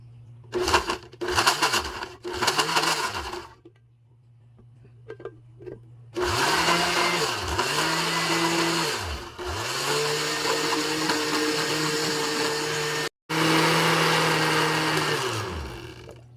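A blender with its lid on whirs through a breakfast drink in repeated loud pulses, short bursts at first, then longer sustained runs with pitch dips as the motor labors, broken by brief pauses.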